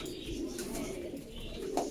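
Racing pigeons in a loft coo softly with low repeated throaty calls over a faint room hum, a few small chirps mixed in and no talk.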